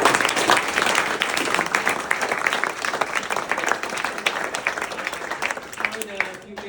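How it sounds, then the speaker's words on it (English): A crowd applauds with dense, sustained clapping that tapers toward the end, and a voice cuts in briefly at the close. "Everybody clap it up for Bob."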